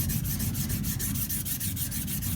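A smiling wedge straight razor is honed on a sharpening stone, a close, steady rasping rub with quick regular back-and-forth strokes about six times a second, with no voices.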